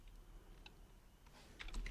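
Quick, light keystrokes on a computer keyboard while someone types notes, a handful of soft, close clicks over a quiet room, growing a bit denser toward the end.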